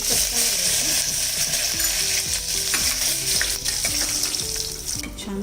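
Curry leaves crackling in hot oil with mustard seeds, cumin and asafoetida as a tempering for Kolhapuri misal, a continuous bright sizzle with sputtering pops, fairly close and unbroken by talk.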